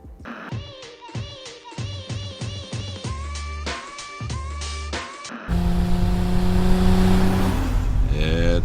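Car engine revving in a Super Bowl car commercial, a series of rhythmic revs and gear-change pulses under music, then a louder, sustained roar with a rising whine toward the end.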